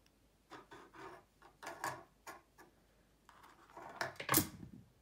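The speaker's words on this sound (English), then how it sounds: "That's just my cat knocking everything over." A cat knocks objects over indoors with a series of soft wooden knocks and rubbing clatters, ending in a louder close tumble.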